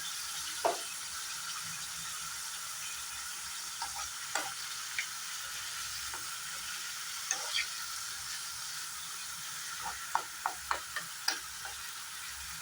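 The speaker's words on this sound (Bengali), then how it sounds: "গাজর, আলু আর কাঁচা লঙ্কাটা লবণ হলদি দিয়ে একটু ভালো করে ফ্রাই করে নিলাম" Carrots, potatoes and green chillies fry with salt and turmeric in a pan, a soft steady hiss broken by scattered ticks and spatula scrapes, with a short cluster of clicks near the end.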